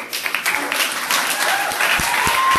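Studio audience applause on a Spanish-language school quiz show, a dense burst of clapping with a few sharp individual claps standing out, staying loud and steady throughout.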